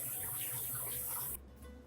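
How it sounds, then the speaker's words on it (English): Rice is rinsed in a colander under a running kitchen tap, a soft, faint stream of water splashing steadily and then cutting off near the end. "rinse it in a colander"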